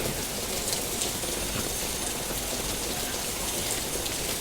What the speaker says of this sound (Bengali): আমাদের ঢাকায় এই মুহূর্তে মানে বলতে গেলে মোটামুটি ভালোই মুসলধারে বৃষ্টি হচ্ছে